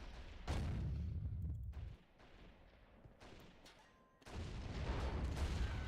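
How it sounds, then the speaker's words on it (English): Mortar and artillery fire in a World War I battle game set on the Italian front: a deep boom opens, followed by rumbling distant impacts, a quieter lull, then another heavy blast and sustained rumble. "Thankfully, that's our mortar."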